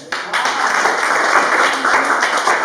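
An audience at a party installation event in Yaoundé claps for an honoured member, producing steady, dense applause that starts abruptly and carries on evenly at close range.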